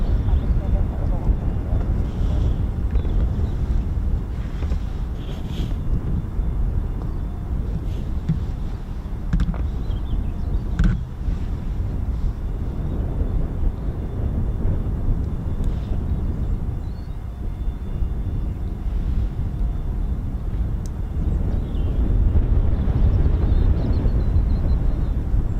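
US Air Force KC-135 Stratotanker taking off at RAF Mildenhall, a steady broad jet roar heard from a distance that holds evenly throughout with a low rumbling base.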